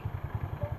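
A motorcycle engine putters in a quick, steady low thumping rhythm, faint and brief, on a road during heavy rain.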